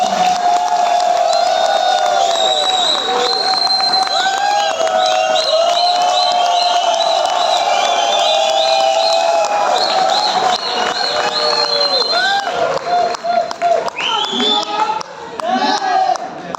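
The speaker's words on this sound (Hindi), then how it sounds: "एक बार जोरदार ताली बजा दो।" Loud crowd clapping and cheering with whoops fills a large hall during a Goa tour speech event, a continuous roar that thins into scattered claps and voices near the end.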